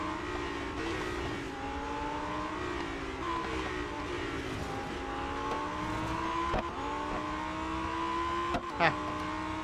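A Lamborghini Huracan STO in the Real Racing 3 racing game accelerates with a steady, droning engine note that climbs and shifts through gears, loud and continuous throughout.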